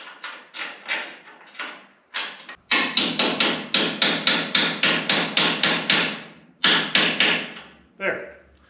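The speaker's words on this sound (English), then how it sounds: "I need a punch and a hammer to do it." A hammer strikes a punch to drive a motor mount bolt on a Mopar-powered 1951 Ford sand buggy, a long run of sharp, loud metallic blows in a fast, steady rhythm with brief pauses between bursts.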